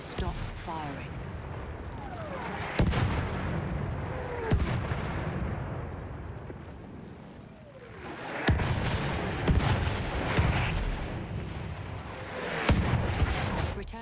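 Artillery barrage booming in Battlefield 1, heavy shell impacts and blasts landing every couple of seconds under constant rumbling combat noise, with several sharp loud hits standing out.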